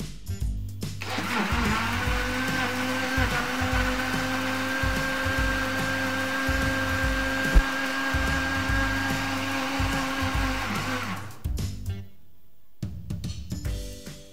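A blender mixing banana cinnamon cake batter whirs steadily at a loud, constant pitch for about eleven seconds, then cuts off abruptly, leaving brief clattering and quiet.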